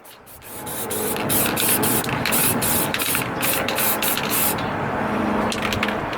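Primer is sprayed onto motorcycle parts, including a swing arm, during a TZR restoration: a steady close hiss of aerosol spray with brief breaks and faint clicks throughout.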